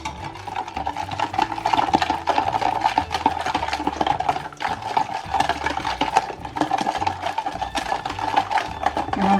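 Orange mixed-fruit juice, sugar, lemon juice and chaat masala being stirred together for fruit chaat, with a steady run of scraping and clinking close by and no talk.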